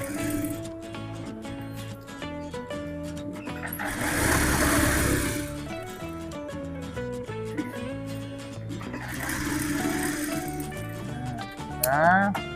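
A sewing machine stitches the edge of a cargo pocket in two bursts of rapid whirring, heard under steady background music.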